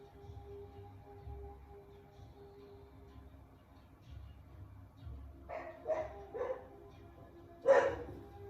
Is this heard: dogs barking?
yes